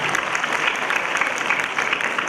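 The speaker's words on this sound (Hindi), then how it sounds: "ज़ोरदार तालियां चाहता हूँ आपके लिए" Applause from an audience at a school Islamic quiz contest, a fairly quiet, even patter of many hands clapping together for a couple of seconds.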